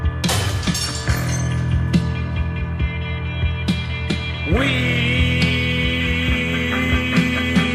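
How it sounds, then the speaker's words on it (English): A broken glass sound effect from an album: sharp crashing and tinkling hits scattered through a dense, droning post-punk music bed, with a swelling tonal shift midway. "we also get all sorts of sound effects, air bursts, broken glass, footsteps"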